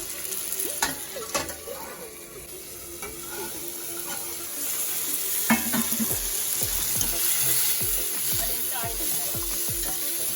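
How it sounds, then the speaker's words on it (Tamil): Chicken sautés in a frying pan before curd goes in: a steady close sizzle with spatula scrapes and knocks against the pan, getting a little louder partway through, with no voices. "நல்லா வதக்கிட்டு தயிர் கொஞ்சம் போட்டுக்கலாம்."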